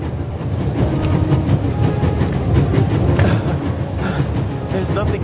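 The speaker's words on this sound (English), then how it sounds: "There's nothing quite like traveling on a train." Train running on rails in The Raven video game, a steady loud rumble with rhythmic clatter of the carriage, continuous throughout with no talk.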